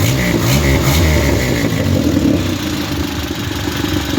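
A car engine fitted with a swapped-in Weber carburetor idles loudly and steadily close by, a slight misfire roughening its otherwise even rumble throughout, with no talking.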